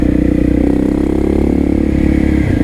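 A KTM 660 SMC single-cylinder motorcycle engine drones steadily while riding along a rural country road, a continuous loud thrumming with a slight rise and fall in revs throughout.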